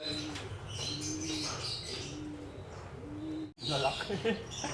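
Young pigeons in a loft giving soft repeated coos at a steady rhythm, close and moderately quiet, with faint chirps mixed in and people talking nearby.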